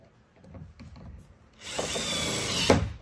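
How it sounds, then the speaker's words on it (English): Power drill driving machine screws through a pre-drilled hinge on a RAM hunting blind, a quiet start with light handling noises, then a loud steady whir from about halfway, close by and without talk. "And drill in your machine screws."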